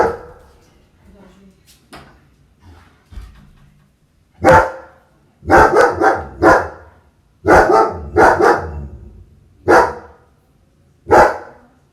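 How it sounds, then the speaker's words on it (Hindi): A pet dog barks indoors, loud and close, in a string of sharp single barks that get more frequent after a few quieter opening yips. "भौंकते नहीं ना बेटा"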